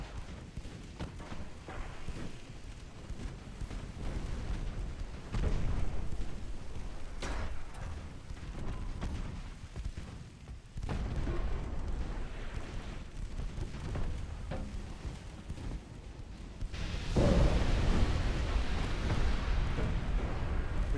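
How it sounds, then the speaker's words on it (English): Video game naval combat with a torpedo striking a ship: heavy low explosions and booming impacts over a rumbling background, with a louder blast near the end. "We did end up taking that torpedo"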